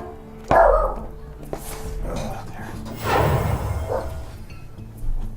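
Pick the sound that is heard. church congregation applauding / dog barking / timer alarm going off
dog barking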